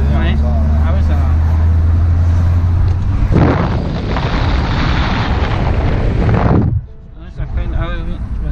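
A custom Citroën DS23 accelerates hard, its engine rising into a loud, dense roar for about three seconds before cutting off abruptly, with quieter background noise and murmuring after.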